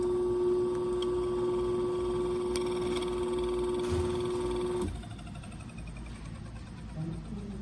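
An Anfim Super Caimano on-demand coffee grinder runs while grinding corn flour together with coffee beans, giving a loud, steady whine and hum for about five seconds before it stops, leaving a quieter rattling residue.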